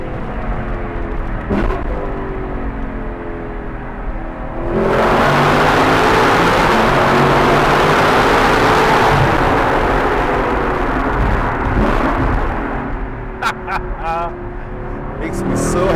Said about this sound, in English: So we can downshift, and when we do that, it'll blip the throttle.